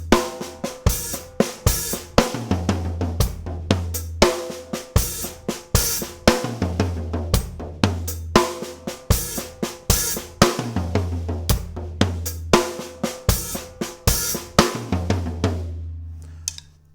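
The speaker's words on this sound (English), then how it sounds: "you can chuck in some 16th note triplets. So take that same idea moving clockwise around the kit" A drum kit is played close and loud in a crossover beat, with rapid sixteenth-note triplet fills moving clockwise around the toms and drums, bass drum and cymbals, in a steady driving groove without talk.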